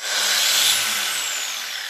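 Power sander running on a bicycle frame in a garage workshop, a loud steady high-pitched whirring hiss that starts abruptly and holds for about two seconds, slightly easing off toward the end.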